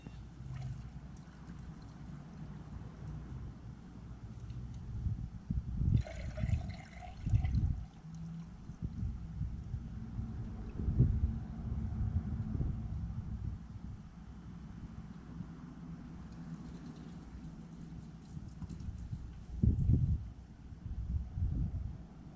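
Liquid ballast pours into a tubed 23x10.5x12 tractor tire: a steady, low gurgling trickle with occasional splashy surges, fairly close and alone with no talking.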